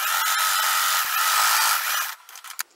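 A sewing machine runs steadily as it stitches a quilt block for a wonky squares crazy quilt pattern, a continuous whirring hum for about two seconds before stopping, followed by a few faint handling clicks.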